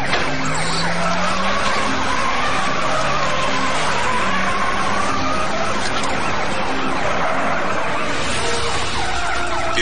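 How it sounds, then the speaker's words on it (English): A police cruiser slams a fleeing car in a PIT maneuver, with loud tire skidding and engine roar over a continuous wailing siren throughout. "the cruiser rockets the vehicle with a well-placed hit"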